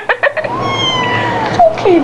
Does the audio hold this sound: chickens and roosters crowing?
no